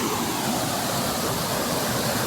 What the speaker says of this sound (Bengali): দেখো বন্ধুরা দেখো গেট খুলে চলে এসছে গেট খুলে চলে এসছে বন্ধুরা গেট খুলে চলে এসছে এত জলের স্রোত